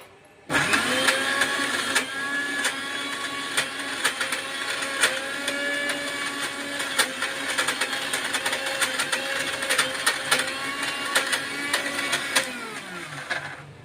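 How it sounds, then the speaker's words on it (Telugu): A kitchen mixer grinder whirs at high speed as it grinds soaked lentils into batter for garelu, starting abruptly and holding a loud, steady motor whine for about thirteen seconds before winding down. "మిక్సీ అయిపోయింది"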